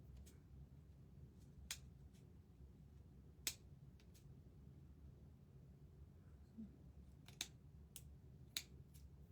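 Scissors trimming a fabric tassel make sharp, isolated snips scattered irregularly through a very quiet room, each cut brief and close, with long gaps of near silence between them.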